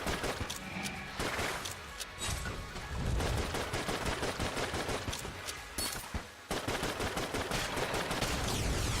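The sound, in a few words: gunfire in video game Enter the Gungeon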